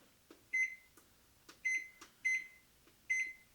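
A kitchen timer beeps in four or five short, clear electronic tones at a regular pace, moderately quiet, with faint knocks between and no talk.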